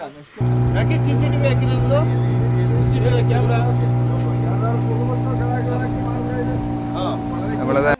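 A small ferry boat engine drones steadily up close with a constant low hum, while voices talk over it, at Gundathur near Nagarhole Tiger Reserve.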